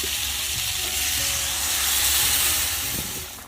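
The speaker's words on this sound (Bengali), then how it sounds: "এখন আমি জল দিয়ে দেবো।" Water hits a hot, sizzling cauliflower and katla fish curry, setting off a loud, dense hiss of steam and frying that swells in the middle and eases toward the end, with no voices.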